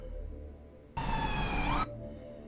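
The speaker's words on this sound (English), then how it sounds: "You're gonna hear sirens in a second." Emergency siren wailing from a played-back clip, a sudden loud tonal blast lasting under a second with rising pitch, cutting in over a low background hum and then stopping abruptly.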